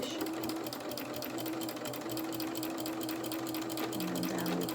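Sewing machine stitching fabric for a small rabbit-doll dungarees outfit, a steady fast whirring hum running continuously and close, with no talk.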